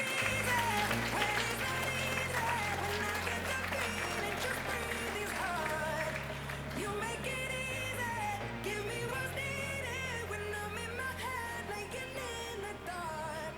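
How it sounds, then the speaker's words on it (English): Audience applause at an apprenticeship awards ceremony in Shropshire, Telford and Wrekin, with scattered yells and whoops, carried under loud, steady background music throughout. "So I'd like you to give a round of applause to Andriana Usherwood-Brown"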